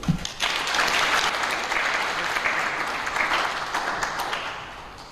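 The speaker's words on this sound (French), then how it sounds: "je vous invite, mesdames et messieurs, à bien vouloir applaudir pour Madame Patricia Tendele" An audience at a sustainable-development workshop applauds for Madame Patricia Tendele: steady, dense clapping from many hands that swells after a brief pause and holds for several seconds before easing slightly.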